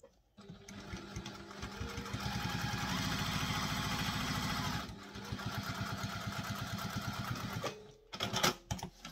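A sewing machine stitches around the pieces of a sling bag with a slightly smaller stitch, two fast rhythmic runs of needle chatter separated by a brief pause, ending in a few clicks.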